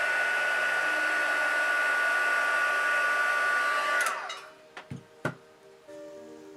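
A hair dryer blows steadily to heat-set paint on fabric, then powers down with a falling whine, followed by a few soft knocks and taps.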